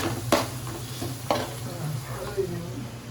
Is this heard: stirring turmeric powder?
yes